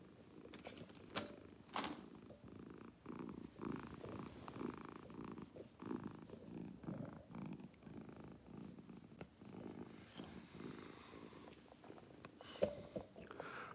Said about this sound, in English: You hear her purring?